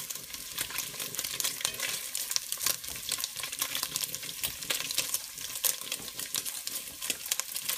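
Meat fries in a pan, hot grease sizzling and crackling steadily and loudly close by, with sharp pops scattered throughout and no talking.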